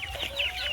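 A hen clucks in a short run of soft, close calls, with no voices over it.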